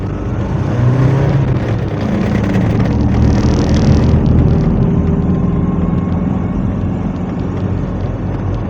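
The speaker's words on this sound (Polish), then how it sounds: "Trochę wyższe obroty jak to silnik wolno ssący i bez problemu." An FSO Polonez pickup fitted with a naturally aspirated Rover 1.4 16V engine climbs a steep hill, its engine droning steadily at fairly high revs, loud and close, with road rumble beneath.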